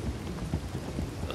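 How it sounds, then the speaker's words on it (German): Steady rainfall in the open world of Red Dead Redemption 2, a dense, even hiss of falling drops with no voices over it during this brief moment. "Da seht ihr 10 Grad und Regen."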